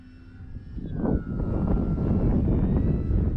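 An RC model airplane sweeps past with its motor drone dropping in pitch, followed by loud, rumbling wind buffeting on the microphone.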